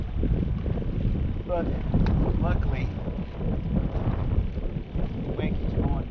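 Steady wind buffeting the microphone outdoors on the Crooked River while fishing, a low rumbling roar, with a person talking briefly over it.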